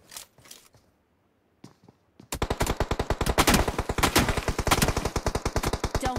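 Gunfire from the mobile battle royale game BGMI: a few scattered shots and a short gap, then a long, loud burst of rapid automatic fire in a fast, even rhythm.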